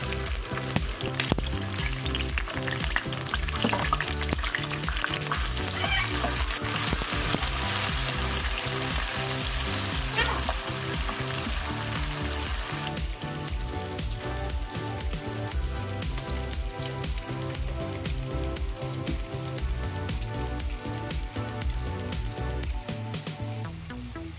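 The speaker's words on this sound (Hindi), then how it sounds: "ऑयल डाल दिया है हमने, इसमें जाएगा प्याज" Chopped onion sizzling in hot oil in a karahi for chicken white karahi, a steady dense crackle of frying that continues with no pause.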